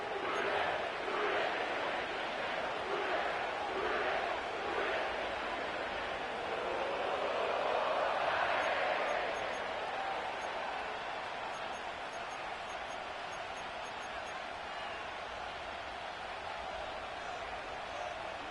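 A sellout crowd at Paycor Stadium in Cincinnati in a football video game fills the air with a broad, steady roar that swells briefly before settling into a constant wash of noise.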